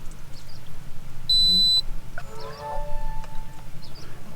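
An Autel EVO 2 Pro drone remote controller switches on with a short, clear electronic beep, followed by a brief rising chirp tone in an otherwise quiet room.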